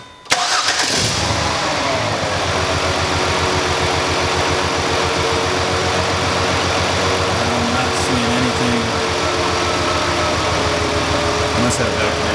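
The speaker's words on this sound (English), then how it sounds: "All right, Tammy, start your engine." A car engine cranks and catches near the start, then idles steadily and loud for the rest of the clip during an ignition misfire diagnosis with no fault codes, a low rhythmic throb holding throughout.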